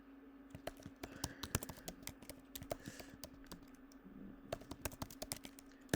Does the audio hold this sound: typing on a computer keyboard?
yes